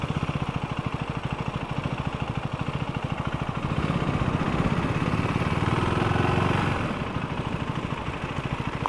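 A 2024 KTM 390 Duke single-cylinder motorcycle rides in a tight circle, its engine pulsing in a steady rapid beat that swells louder and throatier midway before easing back to a lighter putter.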